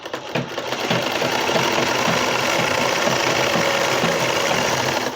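Electric sewing machine stitching fabric for a newborn baby dress, running a steady, loud, continuous mechanical whir with rapid needle clatter for several seconds, alone.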